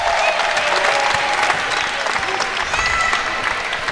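A home crowd applauds and cheers after a UC Santa Cruz women's college volleyball sweep, with steady loud clapping and voices mixed through the applause.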